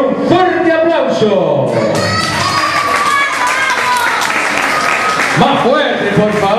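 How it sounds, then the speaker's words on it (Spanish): Live audience applauding and cheering to welcome a belly dance soloist at a dance show, a dense steady wash of clapping with scattered voices and shouts from the crowd throughout. "Y la recibimos con un fuerte aplauso"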